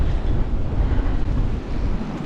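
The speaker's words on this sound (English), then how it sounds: "This dock in front of us is now copping waves over it." Stormy winter surf washes steadily over a dock, a continuous low roar of churning water and wind buffeting close by, with no talk.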